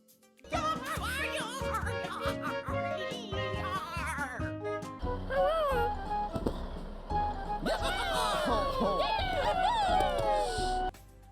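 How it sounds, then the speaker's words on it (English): Happy Tree Friends cartoon characters cheer together in high, squeaky, warbling voices. The bursts of excited cries rise and fall in pitch, come loud and close, and carry on until the sound cuts off abruptly at the end. "Cuddles rescues it, and the other characters cheer."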